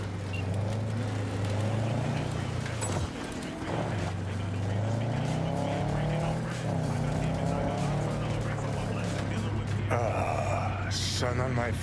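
A car driving in the video game Cyberpunk 2077, its engine holding a steady, close hum with a brief dip partway through, while voices occasionally talk over it.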